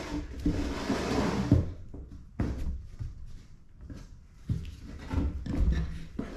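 A wooden drawer bottom slides into the groove of a shop cabinet drawer: a scraping slide, then several short knocks and bumps as it is worked into place, close and alone.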